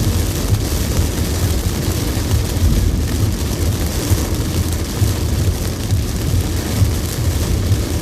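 Steady, dense roar of heavy storm rain drumming continuously on a moving car, with a low rumbling undertone, in northeastern Thailand.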